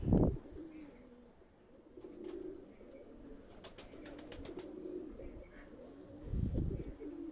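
A pair of Pakistani high-flyer racing pigeons, the hen already past laying eggs, gives soft, low coos, faint and intermittent against a quiet background with a few light chirps.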